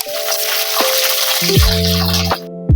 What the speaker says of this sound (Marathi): आपण मिरच्या तळून घेऊया.